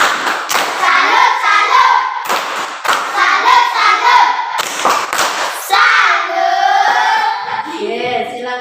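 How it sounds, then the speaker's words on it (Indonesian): A classroom of students doing a rhythmic clapping salute cheer, with loud bursts of hand claps in patterned groups mixed with children's voices chanting along, close and lively. "Tepuk salut."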